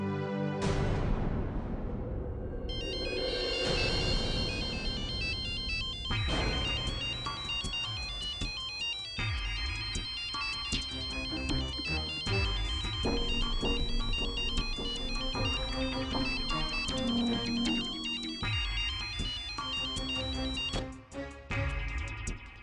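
Mobile phone ringtone ringing for an incoming call, a loud melodic tune playing continuously for over twenty seconds with no talk over it.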